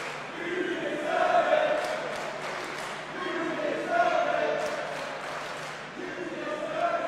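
A wrestling crowd at a Ring of Honor title match chants rhythmically in waves, a broad roar of many voices rising and falling in the distance throughout.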